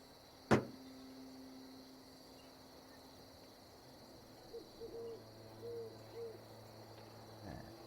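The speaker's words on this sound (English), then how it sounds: "I can hear an owl." An owl hoots in a played forest ambience recording, several soft, fairly distant hoots spaced out in the second half over a quiet night hum with faint insects, after a single sharp knock near the start.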